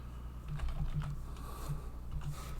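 Keys tapped on a computer keyboard while entering a search term, a quick run of soft clicks over steady room hum, close and fairly quiet.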